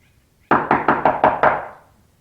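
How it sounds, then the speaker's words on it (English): Six quick, evenly spaced knocks rap loudly on a door, close and sharp with a short ringing decay, alone with no voices. "Someone's at the door."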